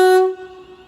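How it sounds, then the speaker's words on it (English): A London Northwestern Railway train gives one loud, close horn blast as it departs Milton Keynes Central, the steady chord sounding for about a quarter second, then a fainter lingering tone trails off. "About ready to depart now will be the 1200 London North Western Railway service to London Euston"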